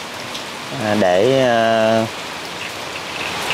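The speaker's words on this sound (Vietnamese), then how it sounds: "tránh cái mưa bão." Heavy storm rain pours down in the Mekong Delta countryside of Vietnam, a steady dense hiss throughout, with a single brief spoken word over it.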